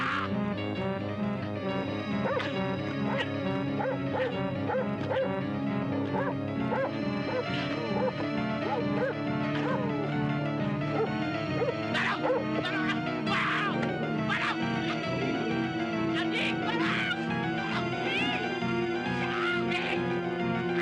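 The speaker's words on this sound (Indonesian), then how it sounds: "Gonggong terus." A dog barks repeatedly in rapid, insistent bursts, loud and close, with yips and whimpers mixed in and a bed of music and faint voices underneath throughout.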